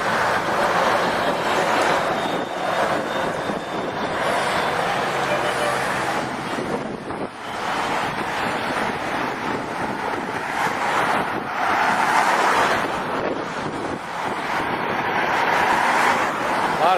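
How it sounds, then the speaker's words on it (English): Road traffic passes along a street beside a refinery, a constant loud roar of vehicles mixed with wind buffeting the microphone and swelling and easing slightly without pause. "A lot of traffic. Very noisy up this way."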